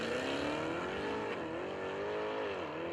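Drag race cars roar down the strip at Texas Motorplex, a loud, sustained high-revving engine howl with rising and dipping pitch, filling the whole stretch without pause.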